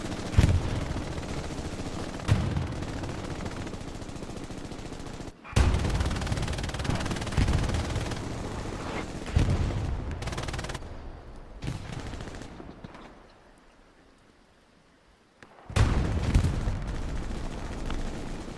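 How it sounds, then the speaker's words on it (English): Bursts of gunfire and heavy artillery booms in the video game Hell Let Loose roll through, with repeated rattling volleys, a brief lull near the end, then more shots. "Lots of smoke, lots of arty, lots of shells, lots of gunfire."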